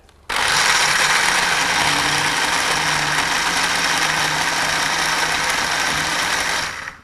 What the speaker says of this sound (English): So all we need to do is to blend it till it's very smooth with a little water.